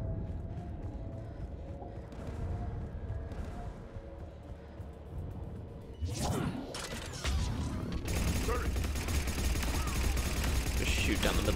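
Rapid bursts of gunfire in the Halo: Combat Evolved Legendary Edition video game, quieter clattering at first, then loud sustained automatic fire and crashing impacts, with a voice talking over parts of it.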